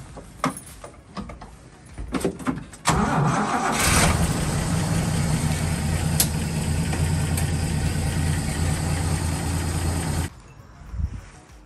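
A Toyota FJ45 truck engine cranks after some clunks and knocks, catches and settles into a steady, loud rumbling idle for several seconds, then shuts off abruptly, followed by a few faint handling sounds.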